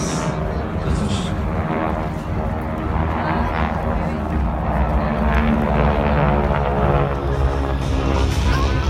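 Multiple aircraft flying in formation at an air show at NAS Jacksonville, Florida, produce a loud, steady propeller-engine drone that holds across the whole span, swelling slightly toward the end.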